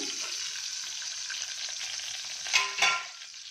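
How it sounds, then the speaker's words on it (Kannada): Mustard seeds, chana dal, urad dal, cumin and fenugreek frying in hot oil in a pan used for frying tomato, a steady close sizzle with a couple of louder crackling pops near the end, no voices. "ಈಗ ಸಾಸಿವೆ, ಕಡಲೆಬೇಳೆ, ಉದ್ದಿನಬೇಳೆ, ಜೀರಿಗೆ, ಮೆಂತ್ಯ ಹಾಕ್ಕೊಳ್ಳೋಣ"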